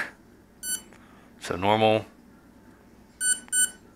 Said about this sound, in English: There's one beep for normal rotation, two beeps for reverse.